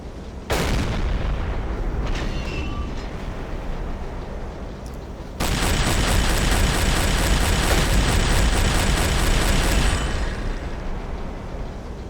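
Continuous heavy rumbling blasts and crackling booms of a U-boat deck gun and explosions in Silent Hunter 3, dense and loud, jumping to a harsher, brighter roar midway before easing slightly at the end.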